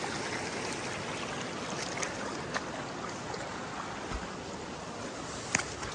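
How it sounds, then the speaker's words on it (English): Bush Creek on New Zealand's Te Araroa Trail flows in a steady, close rush of water with a few faint clicks and knocks, and no one speaks. "I think this is Bush Creek again."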